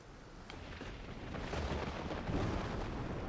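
Heavy rain pours down in the video game Project Silverfish, a dense, steady hiss that swells slightly over a few seconds, fairly faint with no other sounds standing out.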